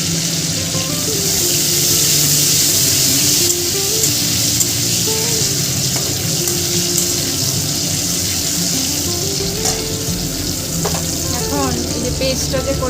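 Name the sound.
nigella seeds, dried chillies and bay leaf tempering in oil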